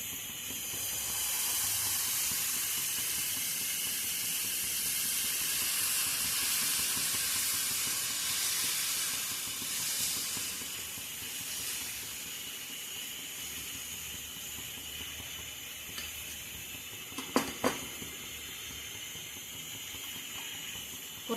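Dosa batter made with drumstick-leaf powder hisses and sizzles on a hot stone tawa, a steady close steamy hiss that eases slightly, with a couple of brief clinks near the end.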